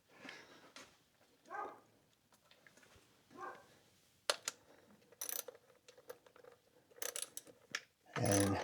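A ratchet tightens an ignition coil bolt on a 2017 Hyundai Elantra. Short bursts of quick clicking come in separate strokes with quiet gaps between them, and a louder clatter sounds at the end, all close and faint.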